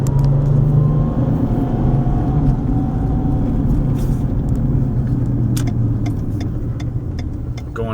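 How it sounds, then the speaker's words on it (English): A car drives through the streets of Aliquippa, Pennsylvania, its engine and road rumble loud and steady from inside the cabin, with light ticks and rattles over the drone and no one speaking. "Take a quick drive through Demattia."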